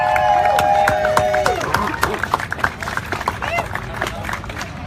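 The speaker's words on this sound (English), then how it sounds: "let's give them a little bit of applause for being this bold" A crowd on the Supreme Court steps claps and cheers for the youth climate plaintiffs, loud sustained applause with whoops, mixed with overlapping crowd babble and a voice over a public address.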